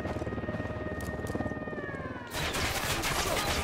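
Gunfire in Ghost Recon Wildlands with a helicopter nearby, rapid automatic bursts over a rhythmic rotor drone, swelling into dense, louder shooting partway through.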